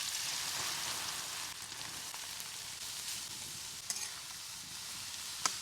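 Grated carrot sautés in hot ghee on a wood-fired chulha for carrot halwa, giving a quiet, steady sizzle with a couple of faint scrape-like clicks late on.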